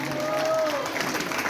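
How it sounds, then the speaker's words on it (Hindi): Applause from a gathered audience at a birthday celebration in Sabhapur, a brief steady patter of clapping with a voice speaking over it. "एक बार जोरदार ताली बजाइए"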